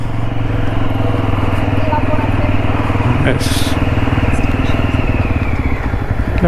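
A motorcycle engine runs loudly and steadily close by at a shrine entrance in Kuthar, Mangaluru, with a rapid rumbling putter throughout.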